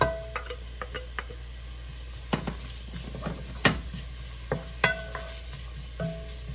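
Garlic and ginger sauté in a pan with onions, giving a steady low sizzle punctuated by sharp clicks and scrapes of a utensil stirring against the pan.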